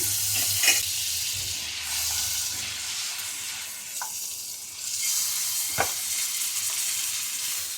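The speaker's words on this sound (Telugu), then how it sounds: "ముందు మనం బ్రెడ్స్ని మంచిగా టోస్ట్ చేసుకోవాలి అటు ఇటు" Butter sizzles softly and continuously in a pan while bread slices toast for a veg cheese sandwich, with a few faint clinks and scrapes over the steady hiss.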